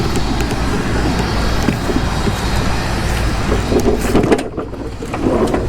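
A Yard Machines push mower with a Briggs and Stratton engine runs steadily close by, a loud, constant drone that dips briefly near the end before resuming.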